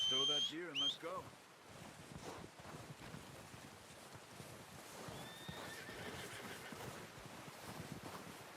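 A Tennessee Walker horse in the Red Dead Redemption 2 video game gives a loud, close whinny at the start, followed by a steady clip-clop of hooves under wind noise.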